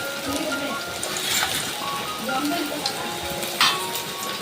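Garlic drops into hot oil for tempering in a Konkani home kitchen, a soft continuous sizzle and crackle with a few sharper spits, under quiet talk.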